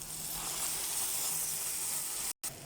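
A pan of tuna curry with tomato paste, lemon, curry leaves and green chillies gives off a steady broadband sizzle and hiss as water is added, continuous and close, with a brief dropout near the end.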